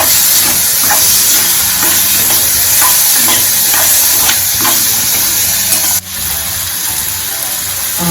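Ripe bananas being stirred into a frying farali curry, a steady loud sizzle and hiss with soft scraping stirs repeating through, briefly dipping near the end.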